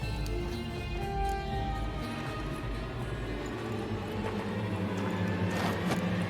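Horse hooves clip-clop steadily in a Witcher 3: Hearts of Stone game scene, a continuous rhythmic clatter over a dense music and ambience bed, with no voices.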